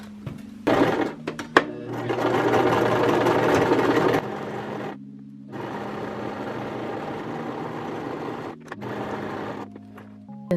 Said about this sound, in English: now I'm just going to make the straight line stitch going this way